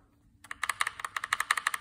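Fast typing on a Redragon Fizz K617 60% RGB magnetic-switch gaming keyboard, a steady run of crisp, evenly spaced keystrokes starting after a brief silence, close and clear with no talking.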